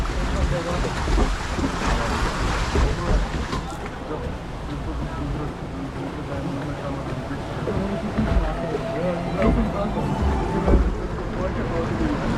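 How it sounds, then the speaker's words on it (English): A flume ride boat moves through water at Plopsaland Deutschland theme park in hot weather, with continuous splashing, rushing water and wind buffeting up close. A person talks throughout. "This is a fantastic flume ride."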